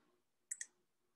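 Two quick, sharp mouse clicks close together, close and clear in a quiet room while working in CAD software defining sketch dimensions.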